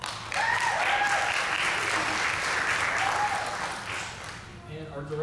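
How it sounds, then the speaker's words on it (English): An audience at a school holiday jazz concert gives a warm round of applause that swells quickly, holds steady, then thins out as a few voices emerge at the end. "we can do a round of applause for him"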